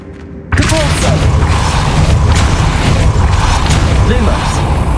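Depulso spell in Hogwarts Legacy, cast with a sudden loud booming thrust that settles into a sustained rumbling roar under the game's ambient noise.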